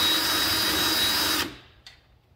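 Power drill widening a hole to 3/8 inch for Horst Miracle probes: a loud, steady whine for about a second and a half, then the motor cuts off and winds down, followed by a faint knock.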